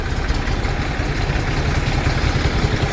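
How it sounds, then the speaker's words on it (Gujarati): A tractor, left unused for two days, runs at idle with a loud, continuous low rumble and a steady, slightly uneven chug throughout. "ટ્રેક્ટર ચાલુ કરી વાળ્યું છે."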